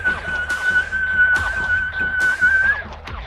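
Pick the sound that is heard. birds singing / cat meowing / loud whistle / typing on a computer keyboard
loud whistle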